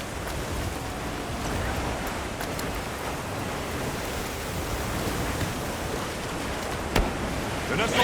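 A heavy rain downpour in Monster Hunter Wilds, a steady dense hiss of falling water that continues unbroken throughout, with a couple of faint sharper taps near the end.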